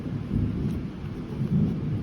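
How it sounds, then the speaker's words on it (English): Low rumbling thunder during a storm with tornado warnings, heard from a boat: a steady deep roll lasting the whole two seconds with rain hiss underneath, and no voices. "Hear the thunder out there?"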